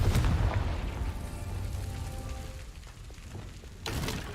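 A Confringo blasting spell explodes in the Hogwarts Legacy video game, a loud boom at the start rumbling into a sustained low roar, with a second blast bursting in near the end.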